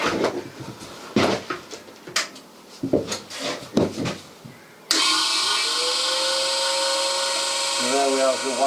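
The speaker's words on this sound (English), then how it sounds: "And there we have the wire spinning off the reel" MIG welder wire feed motor spinning wire off the reel during a narrowboat engine bay bulkhead build: a sudden steady whine that rises and holds after several seconds of clattering handling, with someone talking before it.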